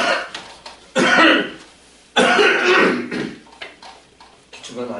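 Two loud, harsh coughing bursts from a person close by, each trailing off, separated by quiet gaps with faint room noise.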